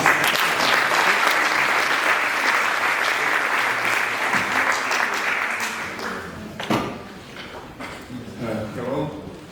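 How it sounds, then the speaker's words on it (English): Audience applause after expert presentations at an education event, a dense sustained clapping from a crowd that fades after several seconds into scattered claps and murmuring voices. "Maybe one more round of applause."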